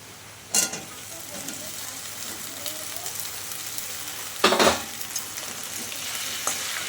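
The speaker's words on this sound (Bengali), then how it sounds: "ভেন্ডিগুলো দিয়ে ভেন্ডিগুলোও আমি ভাজা করে নেবো" Okra (bhindi) frying in a pan sizzles steadily, with two sharp stirring scrapes standing out near the start and later on.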